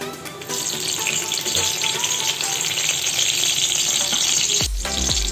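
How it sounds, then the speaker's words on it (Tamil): Dried red chillies drop into hot oil in a kadai and crackle in a steady, close sizzle that holds unbroken for several seconds, followed by a brief clatter of a utensil near the end. "கடாயில் எண்ணெய் போட்டுட்டோம். எண்ணெய் காஞ்சிச்சு. அதில் காஞ்ச மிளகாவை போட்டுடலாம்."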